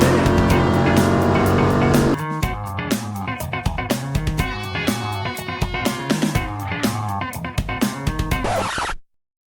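Pure stock race cars roar around the dirt oval at Vado Speedway Park in a main event, the engines loud and sustained, with rising and falling surges as the field passes close by and a sudden cutoff at the end.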